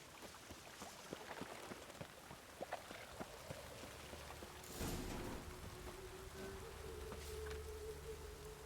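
Rain falls in The Witcher 3, heard as faint, steady patter with scattered drips, then a soft swell partway through and a low droning tone underneath.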